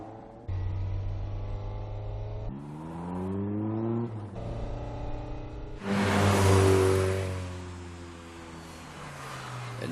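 Toyota AE86 engine accelerating in a film scene (Initial D), with rising revs broken by gear changes and a louder, rougher surge near the end before the pitch falls away.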